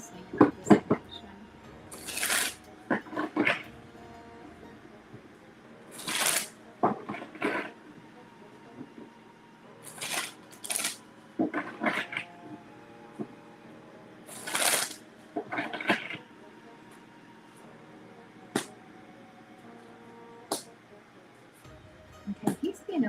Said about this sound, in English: I'm just going to shuffle the cards here